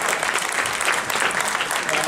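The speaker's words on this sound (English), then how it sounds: "Would you please stand up and let's give you a round of applause for braving the people" A round of applause from a gathered audience welcoming first-time attendees at a meeting, a thick, continuous wash of many hands clapping at a constant moderate level throughout.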